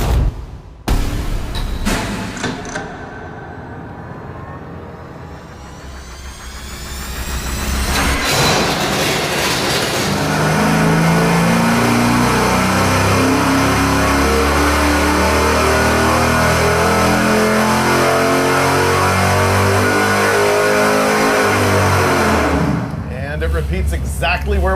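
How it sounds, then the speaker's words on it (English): A 410 engine revving hard on a dynamometer, starting with short sharp bursts and crackles, then settling into a loud sustained roar that climbs steadily in pitch through a full pull before cutting off near the end. "All right, we got the 410 hung on the dyno."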